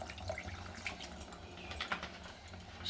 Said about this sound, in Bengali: আমি একটু জল ঢেলে দেবো।